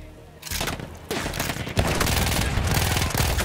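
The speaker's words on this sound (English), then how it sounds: "That gun is so inaccurate." Rapid gunfire in the World War I shooter Battlefield 1, sustained bursts of loud close automatic fire with short pauses between volleys, dense and continuous for several seconds.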